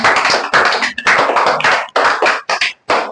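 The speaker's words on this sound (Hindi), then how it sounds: "सभी लोग ताली स्वागत कीजिए गाने के लिए" A school audience claps to welcome a young guest singer, bursts of close, loud applause broken by short pauses, with no voices over it.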